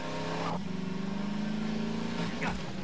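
A game vehicle in Half-Life 2: Synergy drives along with a steady humming engine tone that shifts pitch as it speeds up and slows, heard under a voice talking.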